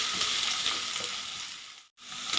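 Green chillies and curry leaves sizzle steadily in hot oil in a pan, a dense crackling hiss that runs throughout with a brief dip near the end, close and alone without voices.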